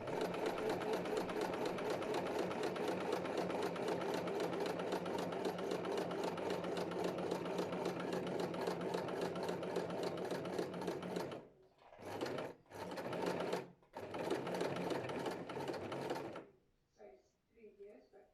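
An Empisal Expression sewing machine stitches a buttonhole, running steadily and fairly loudly for about eleven seconds, then continuing in several short bursts separated by brief pauses before falling quiet.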